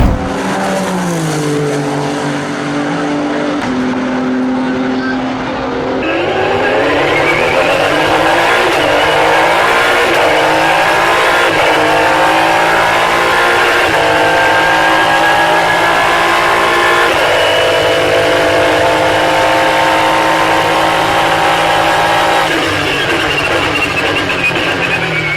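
A Nissan DPi race car engine of 600-plus horsepower screams loudly, revving toward 8,000 RPM through a 6-speed paddle-shift gearbox with rising pitch and sharp shifts, sustained and close.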